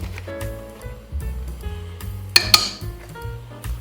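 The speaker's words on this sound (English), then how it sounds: "Give that a good stir." A spoon stirring corn flour into browned beef in a pot for a beef pie: steady scraping and clatter against the pot, close by, with two sharper metallic clinks partway through.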